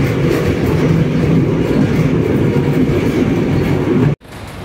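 A tram rolls past at close range, a loud, steady rumble with rattling wheels that fills the moment and cuts off abruptly near the end.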